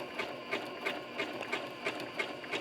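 A sewing machine runs a slow zigzag stitch attaching applique to background fabric, its needle thumping in an even, quick rhythm of about three beats per second, moderately quiet and alone.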